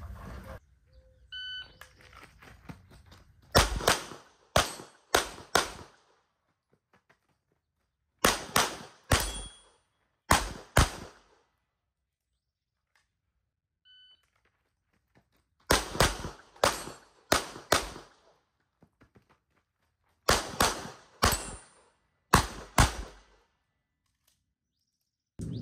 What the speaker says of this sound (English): I'm not really being visually patient with the sight pictures on target, and I'm just shooting